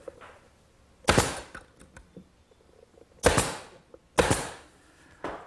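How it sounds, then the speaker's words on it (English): Brads being shot into a plywood drawer, with three sharp, loud, close pops from a nailer, each followed by a short mechanical rattle. Small handling clicks fall between them. "then we'll tack it together with some brads"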